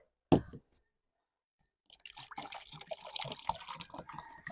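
Water pours into a cooking pot for Jamaican coconut drops, preceded by a single sharp knock. After a short silence comes a close, splashy, uneven trickle of liquid with small drips.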